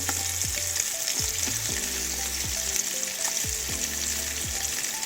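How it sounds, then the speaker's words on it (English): Onion frying in a pan for collard greens with smoked sausage, a steady dense sizzle with a few low clunks and scrapes as it is stirred, close and moderately loud, no talking. "now I'm gonna add some onion."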